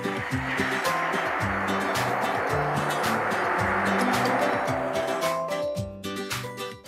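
Flan de queso mixture with milk, sugar and vanilla being whisked briskly in a bowl, a loud, continuous rhythmic clatter and slosh of close, repetitive beats that eases off near the end.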